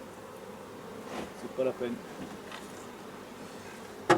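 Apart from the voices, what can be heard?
honeybees buzzing around hive frames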